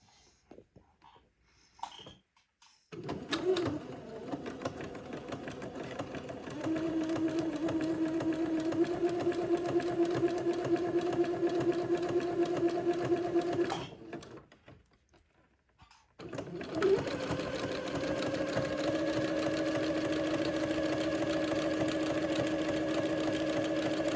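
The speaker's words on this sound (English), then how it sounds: "Now I've set my machine to a zigzag in the appropriate stitch length and stitch width for sewing entredeux." A sewing machine runs a zigzag stitch to sew an entredeux seam, its steady motor whir and needle chatter running in two long bursts separated by a brief pause, close and fairly loud with no talk.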